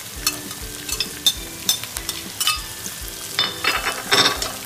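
Green chilies and capsicum fry in a pan with a steady sizzle, punctuated by regular scraping stir strokes that grow busier and louder toward the end; no voices.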